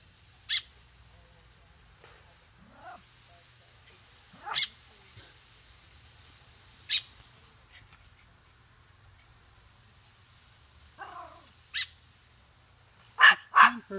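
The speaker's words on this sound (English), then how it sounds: "Hey, hey, no, no, no barking." Small Yorkie puppy yapping in short sharp barks scattered across the stretch, close and quiet between outbursts, with a quicker cluster of yips near the end while a person talks softly.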